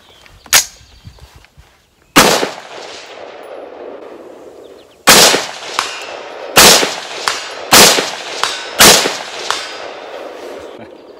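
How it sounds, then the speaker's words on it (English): Gunshots ring off a steel target set at 200 yards, each sharp crack followed by a metallic clang, spaced irregularly with several quicker shots in succession near the end. "If I can just bang away at the steel at 200, then I'd say we're good to go."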